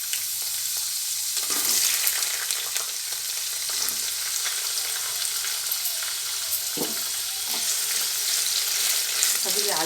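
Carrots fry in a pan with a constant loud hiss and sizzle while occasional scraping strokes of a stirring utensil cut through the frying noise.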